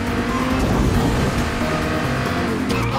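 A Lamborghini in a virtual reality video game revs and drives with a steady loud engine roar and brief tire squeal, no talking over it.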